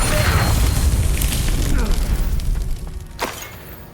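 Glacius ice spell cast in Hogwarts Legacy, a loud booming burst with rumbling low end that fades out over a few seconds, ending with a sharp crack.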